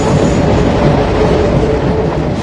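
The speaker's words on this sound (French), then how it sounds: "Le métro s'arrête pas?" A metro train rushes through a station without stopping, a loud, continuous rumble of wheels and carriages with faint clattering throughout.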